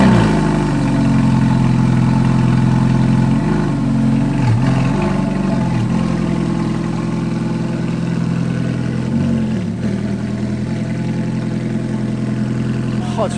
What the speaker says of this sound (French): là on va avoir droit au start-up de la F430.